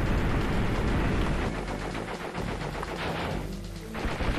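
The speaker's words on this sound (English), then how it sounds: "Will you stop shooting at me?" Enemy gunfire from the video game Crash Bandicoot 3: Warped: a dense, continuous barrage of rapid shots and booms, loud and busy throughout with little pause.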